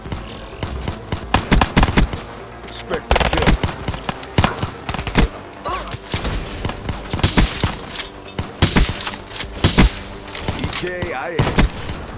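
Dense automatic and single gunfire from Black Ops 3 multiplayer Gun Game on the Awakening DLC map Splash, with rapid bursts and sharp shots throughout, loud and continuous amid game effects.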